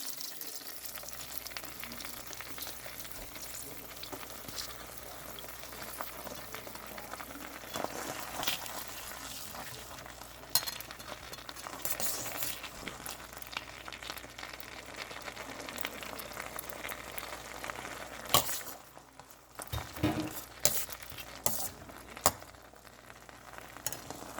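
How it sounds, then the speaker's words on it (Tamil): Coconut milk bubbles and simmers in a pan over sautéed spinach greens, a quiet, steady sizzle with occasional louder clinks and stirring near the end. "இப்போ நாங்கள் தேங்காய் பாலை விட போகிறோம் இந்த தேங்காய் பால் நல்லா கொதித்து கொண்டு வரணும்"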